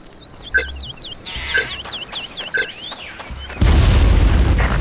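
A heavy bomb blast in the video game Far Cry erupts suddenly, a loud low boom that rumbles on after repeated chirping bird calls and a quiet jungle ambience.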